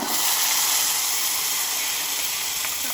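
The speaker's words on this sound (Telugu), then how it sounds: "చేసుకున్న చట్నీని తాలింపులో వేసేసుకోవాలి" Ground chutney tipped into a hot pan of tempering oil sizzles with a loud, continuous steamy hiss that stays steady and close for the whole stretch, with no voices.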